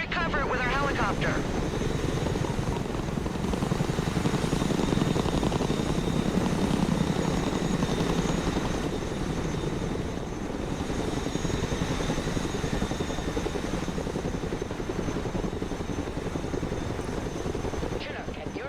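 A Chinook cargo helicopter in the modern war strategy game Broken Arrow, its loud continuous rotor thrum and engine roar dominating throughout, swelling slightly midway, with faint game sounds mixed in.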